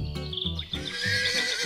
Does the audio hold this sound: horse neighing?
yes